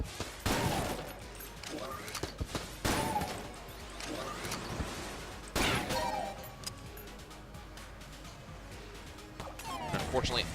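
Guns fire in the video game Enter the Gungeon in several sharp, loud bursts spaced a few seconds apart, with game noise continuing between them and a voice talking over it.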